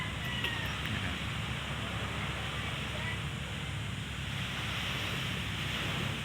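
Sea waves wash along the shore at the seaside, a steady close rushing surf with wind buffeting the microphone and no clear voices.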